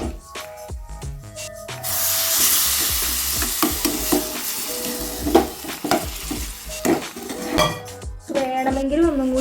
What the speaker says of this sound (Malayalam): ഇതൊന്ന് ഇളക്കിയിട്ട് നമുക്ക് നമ്മുടെ ചീരയിലേക്ക് ഒഴിച്ചു കൊടുക്കാം